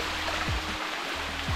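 Waterfall in Thailand pouring steadily, a soft continuous hiss of falling water with faint low tonal sweeps underneath.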